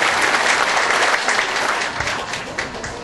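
Sustained applause from a crowd at an INSS office inauguration ceremony in Timbiras, loud and dense throughout, easing slightly toward the end with no voices over it.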